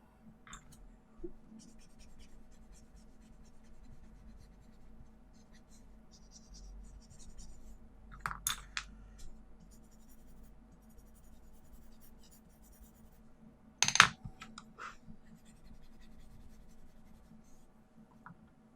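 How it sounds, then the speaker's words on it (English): Quiet 4B pencil strokes on paper while shading a portrait's mouth, a soft continuous scratchy scribble with a few brief louder scrapes, close up and alone. "going in with that 4B pencil again, just use it one more time on that centre line"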